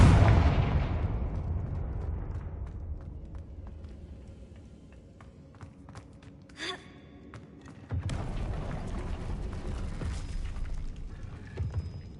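Confringo blasting spell explosions in a video game: a fading boom at the start, a quieter stretch with a brief sharp burst, then a second rumbling blast near the end.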